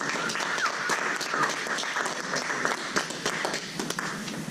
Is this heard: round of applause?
yes